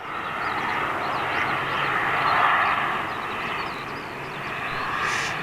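A jet airliner taking off at Manchester on a long takeoff run, a broad steady engine roar heard from a distance, rising slightly and then easing, with no one talking.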